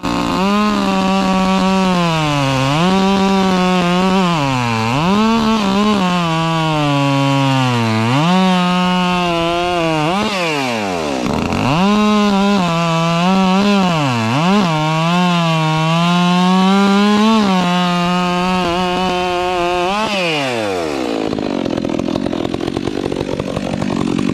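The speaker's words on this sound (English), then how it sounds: "this saw right here is a Demon with a 20-inch bar on it" A 60cc Demon chainsaw with a 20-inch bar runs loud and close, its engine revving up and down repeatedly between idle and full throttle, then winding down near the end.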